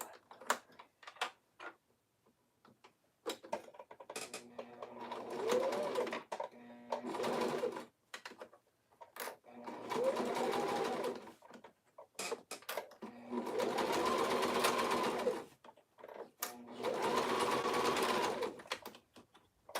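A sewing machine stitches fabric headbands in repeated bursts of steady whirring, several seconds each, separated by short pauses filled with sharp ticks and clicks, close and clear with no talking.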